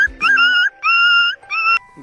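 Khesari Lal's pet dog, Bhoda, lets out three drawn-out, high-pitched whining cries, close and fairly loud, with short gaps between them.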